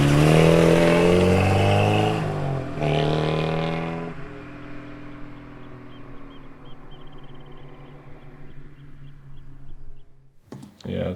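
A car drives past a hairpin bend on a road: engine noise swells close and loud, sweeps past with falling pitch, then fades into the distance, leaving quiet background.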